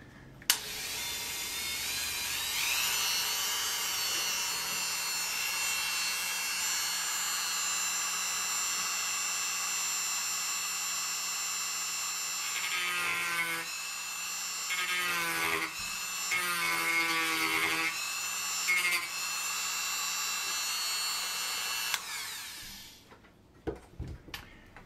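Rotary cutter notching a workpiece while throwing sparks, a high steady whine held for about twenty seconds with several dips and bursts as the bit bites, close and continuous before stopping.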